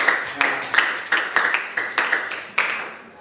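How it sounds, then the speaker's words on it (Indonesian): A small classroom group claps for a student during a history lesson, about eight sharp, evenly spaced claps over roughly three seconds, close and moderately loud, with no voices. "Tepuk tangan untuk Giska."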